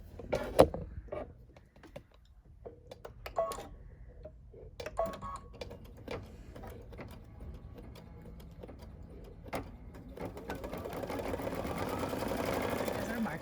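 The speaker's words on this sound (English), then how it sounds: "So it's now going to do the marking stitch so we can see where to lay our applique." A Baby Lock Solaris embroidery machine sews an appliqué marking stitch, a soft, steady mechanical whir with faint ticking that swells louder toward the end, with no talk over it.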